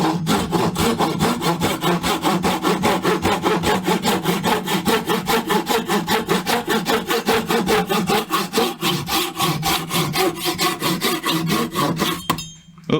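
A cheap AliExpress hand saw cross-cuts a piece of wood clamped in a vise, giving steady rapid rasping strokes close up that run continuously and stop abruptly near the end.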